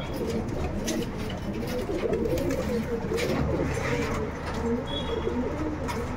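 Old Line breed pigeons cooing in a crowded loft in Bangalore, a dense overlapping chorus of low throaty coos and rustling, close and continuous, with faint voices in the background.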